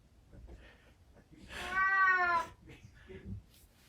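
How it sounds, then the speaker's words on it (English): A pet cat meows loudly and close in the middle of a home weather broadcast, one drawn-out cry rising above quiet room noise and faint talk. "Chief Meteorologist Jeff Lyons was interrupted by his cat Betty mid-broadcast, so he picked her up"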